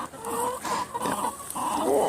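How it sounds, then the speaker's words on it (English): Several bearded hens in a co-op chicken coop cluck and murmur close by in short, overlapping calls. "we got 4 lovely bearded chickens in here"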